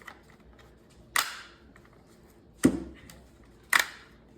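Plastic bolt of a toy AK-47 rubber band rifle snapping back as the trigger is released, three sharp close clicks spaced about a second apart over a quiet background.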